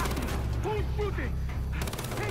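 Gunfire in the Far Cry video game rattles in rapid automatic bursts, loud and dense, layered with game sound and a voice speaking over it.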